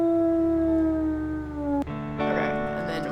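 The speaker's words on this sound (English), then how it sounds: "I think I'm gonna quickly howl over this calf so we don't lose it" A wolf in the video game WolfQuest gives a long, loud, sustained howl that slowly falls in pitch and then breaks off, followed by a shorter layered howl with other in-game sounds.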